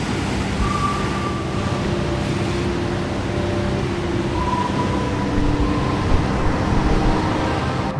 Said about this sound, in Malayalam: കടൽ വലിയ തോതിൽ പ്രക്ഷുബ്ധമായിരിക്കുന്ന ഒരു സാഹചര്യം നമുക്ക് ഇവിടെ നിന്ന് കാണാൻ കഴിയുന്നുണ്ട്